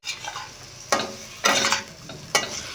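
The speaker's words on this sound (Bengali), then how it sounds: "মশলা খুব ভালো করে কষবো।" Ground spice paste with ginger-green chili paste, tomato and vegetables, including potatoes, stirred and fried in a pan for a potato and ridge gourd catla fish curry; steady sizzle broken by three or four louder scraping stir strokes, close up, no talk.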